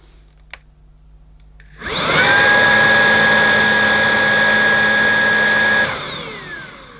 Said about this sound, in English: I'm used to switching on a vacuum and it turns on as soon as you press the button.